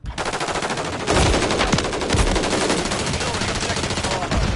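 Sustained machine gun fire in a video game, a dense rapid rattle of shots continuing throughout with a few heavier impacts mixed in, loud and close.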